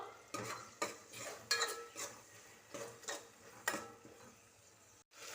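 Small onions, ginger and garlic sautéed in a pan for chicken dum biryani, a utensil knocking and scraping against the pan in irregular clinks, close but quiet, with no talking.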